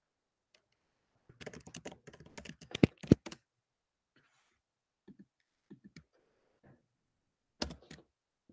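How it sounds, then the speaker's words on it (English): Typing on a computer keyboard during an online careers session, a quick flurry of key clicks for a couple of seconds, then sparse isolated taps and a final short burst, close and fairly quiet. "as probably Ibrahim is typing it"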